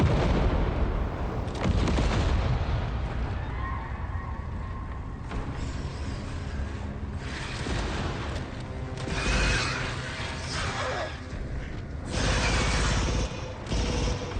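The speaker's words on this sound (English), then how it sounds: "Heads up, grenade." Video game combat: heavy gunfire and artillery-like blasts erupt in repeated loud bursts, with a grenade explosion among them, the booms and cracks overlapping densely over a rumbling battle backdrop.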